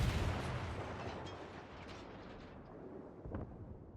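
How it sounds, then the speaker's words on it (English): Heavy warship guns fire during a World of Warships naval battle as ships finish off the damaged Gneisenau, giving deep booming blasts that roll into a long rumbling decay, with a further muffled blast near the end. "the Gneisenau is so low on health that those ships will finish this with their guns"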